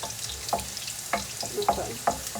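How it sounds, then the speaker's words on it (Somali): Onions frying in a pan give a constant soft sizzle with a few close, irregular stirring clacks, heard alone without any talking. "kadibna basasha ayaan ku daraa waa iska shiilaya"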